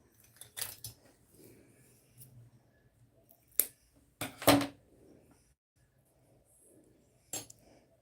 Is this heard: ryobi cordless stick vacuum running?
no